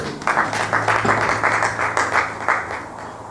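A church congregation applauds in praise, a steady burst of many hands clapping with a loose rhythmic pulse that fills the room at moderate loudness, with no speech over it.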